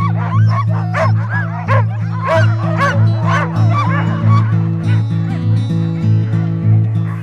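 A team of sled dogs barks and yips nonstop in an excited, overlapping chorus, close and loud over a steady low droning tone.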